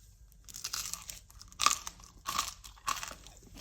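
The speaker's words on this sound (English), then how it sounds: "Let me just try tasting the bottom part of the bread." Biting and chewing into the crispy bottom crust of a sourdough loaf: several close, dry crunches in irregular bursts, loudest partway through, with no talking.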